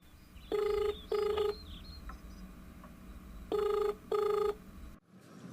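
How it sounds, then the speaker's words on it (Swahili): A telephone ringback tone sounds as a call is placed: two paired bursts of ringing, the first pair near the start and the second about three seconds later, clear and fairly loud over a quiet room, cut off abruptly at the end. "Hebu ngoja kwanza nimpigie simu mpenzi wa maisha yangu."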